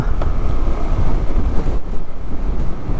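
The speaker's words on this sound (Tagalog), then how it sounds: "Uy, lakas ng hangin." Strong wind buffets the microphone in a constant loud roar while riding a scooter on a bypass road, with heavy low rumbling gusts and no voices.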